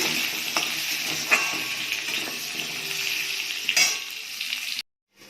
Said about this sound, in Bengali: পেঁপেটা দিয়ে দিচ্ছি, আলুও দিয়ে দিচ্ছি, একটু নেড়ে চেড়ে